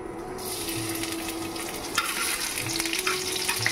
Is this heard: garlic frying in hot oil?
yes